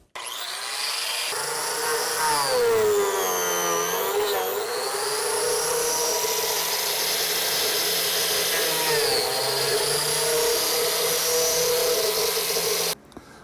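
A biscuit joiner cuts slots into a wooden miter joint for a mid-century tambour cabinet, its motor whining loud and steady for about twelve seconds before stopping abruptly.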